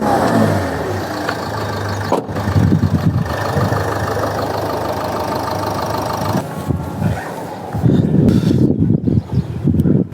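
Engine of a used car runs nearby at a steady idle, a rumbling hum with a few brief dips and a slightly louder, rougher stretch near the end.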